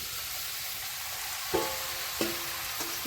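Prawns sizzle in a frying pan with tomato: a steady hiss of frying, broken by three sharp clattering stirs or knocks of the utensil against the pan, with no talk.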